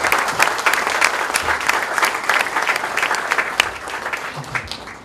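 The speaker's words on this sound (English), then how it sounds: "I would request you to give another round of applause to Saudara Zamir Karim." Dense, steady applause from an audience at a Sri Lankan Malay book launch, many hands clapping continuously for about five seconds before tapering slightly at the end, with no talking over it.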